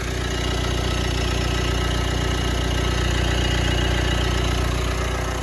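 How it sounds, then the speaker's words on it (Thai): A 2018 Mitsubishi Triton 2.4 common-rail diesel pickup engine idles steadily nearby, a smooth, even rumble with a constant hum and no voices. "เครื่องยนต์เสียงนิ่ม ฟังไพเราะนะครับผมตัวคอมมานเรล DID เราจะมาฟังเสียงเครื่องกันนะครับผม"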